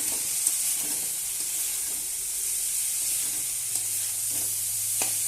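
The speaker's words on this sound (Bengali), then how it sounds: "তো আজকে আমি এমনি শুধু ভাজা করব, পেঁয়াজ আর মরিচ দিয়ে" Onion and chili frying in a pan and being stirred, giving a steady close sizzle broken by occasional scrapes and clicks of the spoon, with no talking.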